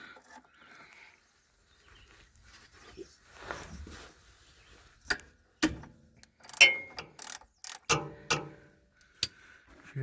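A ratchet loosens the 15 mm oil drain plug under a Ford F150 with a 5.0L engine, close and fairly quiet: faint ticking at first, then several sharp, separate clicks and clacks over the last seconds.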